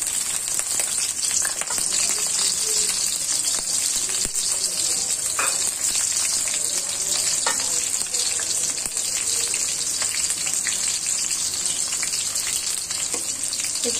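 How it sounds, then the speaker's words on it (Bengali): Four onions fry in hot oil with a dense, constant close-up sizzle and crackle that holds steady throughout, with faint occasional taps from stirring. "আমি এখানে চারটা পেঁয়াজ দিয়ে নিয়েছি,"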